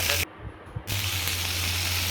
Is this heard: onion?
yes